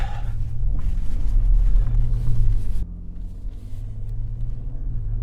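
A 2024 Ford Ranger Raptor in 4 auto pulls away with a loud, deep engine rumble that eases to a steadier, quieter drone partway through as the truck drives on.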